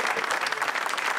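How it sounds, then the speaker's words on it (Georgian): Studio audience applauding on a Georgian entertainment show as a singer and vocal coach is introduced, a dense, steady burst of clapping at moderate level filling the whole short moment. "აპლოდისმენტები."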